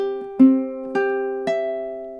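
Measure 19 of a lullaby plucked on a ukulele: four clean, close notes spaced about half a second apart, each left ringing and sustaining softly into the next, with no voices.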